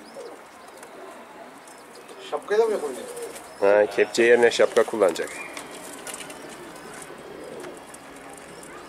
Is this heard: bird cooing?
yes